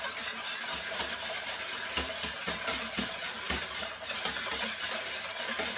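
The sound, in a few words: stirring lemon curd mixture in a pan until melted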